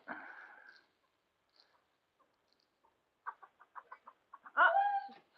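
A chicken clucks alone in a quiet setting, one drawn-out squawk and then a quick run of short clucks ending in a louder call.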